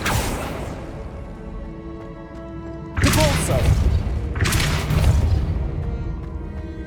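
Hogwarts Legacy Accio spell effect: two sharp magical whooshing bursts with a thumping boom, each swelling and fading, following a quieter stretch of game ambience.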